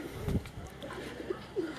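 A pigeon with a return stamp, perched on a rooftop in Gujrat, Pakistan, coos softly a few times against a quiet background, with a low thump near the start.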